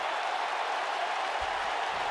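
A steady roar of crowd ovation in a WWE 2K wrestling video game, a loud, even wash of cheering noise for about two seconds with no voices on top.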